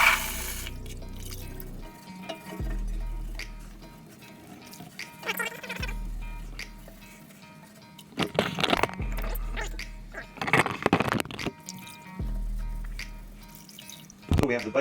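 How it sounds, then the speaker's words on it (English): Water rinses Evaporust rust remover off a motorcycle frame, hissing spray in intermittent bursts with splashing and dripping between them, a low hum underneath. "we're going to give this a rinse down real quick."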